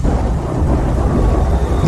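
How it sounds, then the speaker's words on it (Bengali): A radio-drama sound effect of a thunderstorm: a loud, continuous low rumble of thunder over heavy rain, with no voices. "বাইরে তখন ঝড় বৃষ্টির তাণ্ডব নৃত্য শুরু হয়েছে।"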